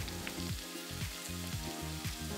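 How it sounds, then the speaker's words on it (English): Flour-coated chicken pieces for Thai garlic fried chicken deep-frying in hot oil, giving a steady, dense sizzle with crackling bubbles, close and continuous with no talking. "And then sizzling again."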